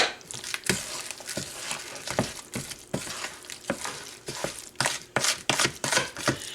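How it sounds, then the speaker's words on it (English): Breadcrumbs sprinkled into a Velveeta salmon casserole mixture, a close run of dry crunchy crackles and rustling bursts in an irregular rhythm, with no talking. "And then I'm going to sprinkle in my breadcrumbs"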